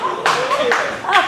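Audience clapping at a stand-up comedy show, a few short bursts of claps breaking in between the comedian's talking, close and fairly loud.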